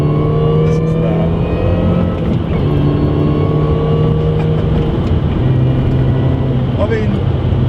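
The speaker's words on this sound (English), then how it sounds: "this is going to increase the sound of that supercharger whine" A Mini's supercharged engine revs loud and close, a steady drone with a high whine riding over it as the revs rise and fall through several pulls; a voice talks over part of it.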